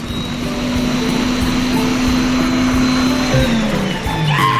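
A lidded blender whirs steadily at high speed as it mixes melted chocolate with milk. The drone is loud and close, and its pitch winds down near the end as the motor slows.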